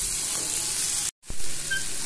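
Vegetable pieces sizzling in a pan with salt for egg kofta curry, a steady bright frying hiss broken by a brief silent cut, then a stirring scrape and renewed sizzle, close and loud.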